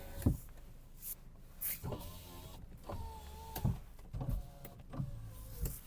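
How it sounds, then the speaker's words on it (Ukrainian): Power windows on a Volkswagen Golf whirr up and down in several short runs, each motor hum starting and stopping with a soft clunk, close by and with no talk. "Склопідйомники."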